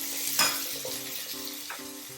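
Split green chilies, dry red chilies and curry leaves hitting hot oil for string hoppers, a steady close sizzle with a sharp crackling burst near the start and a light stir.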